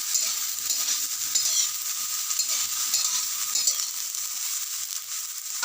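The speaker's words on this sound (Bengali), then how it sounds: "বেগুনগুলো দিয়ে এটাকে একটু নাড়তে হবে। প্রথমে বেগুনটাকে ভেজে নিতে হবে।" Chopped eggplant sizzling in a pan for methi begun, a soft continuous frying hiss with light stirring scrapes throughout, close and without talk.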